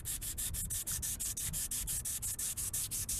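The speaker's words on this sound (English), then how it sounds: "use my little sanding block here. Now you are grinding some plastic off" A small sanding block rubs back and forth over a plastic car indicator lens, with quick, regular rasping strokes, about six per second, close and fairly quiet, with no talking.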